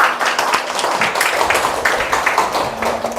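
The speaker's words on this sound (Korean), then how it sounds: "우리 주님께 영광의 박수 올려드리도록 하겠습니다" A church congregation claps in praise during a sermon-style lecture, many hands producing a continuous, lively burst of applause that stays loud and even throughout, with no speech on top.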